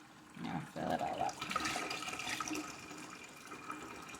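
Water pours into a container in a greenhouse, a continuous rushing splash that starts abruptly and settles into a steady fill. It sounds fairly quiet and close.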